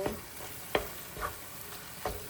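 Corned beef and potatoes are stirred with olive oil in a frying pan, a soft sizzle under several distinct scraping strokes spaced about half a second apart.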